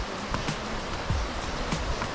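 A mountain waterfall at the foot of an alpine hike, heard as a continuous broadband rush of falling water that stays steady and fairly close, with faint low thumps that may be wind.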